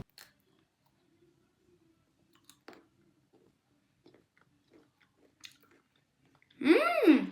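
Biting into a Dubai chocolate Magnum ice cream bar, with a crisp, close chomp and chewing near the end after mostly quiet, faint handling noises.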